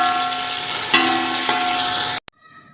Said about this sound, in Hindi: हम घी डाल देते हैं, तकरीबन 150 ग्राम ले रहे हैं। अभी डाल रहे हैं प्याज